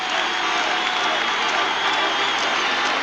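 Loud, continuous roar from a packed Yankee Stadium crowd at the 1980 ALCS Game 3, Royals at Yankees, with cheering and applause blending into an unbroken wall of noise.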